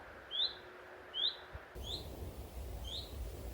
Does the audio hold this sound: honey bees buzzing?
no